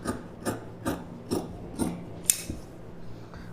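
Scissors snip through blouse fabric along a round front neckline, giving five regular close cuts about half a second apart, then a sharper click, quiet and alone.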